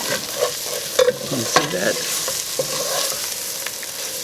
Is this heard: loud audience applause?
no